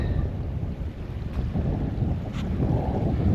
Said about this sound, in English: Still blowing a gale.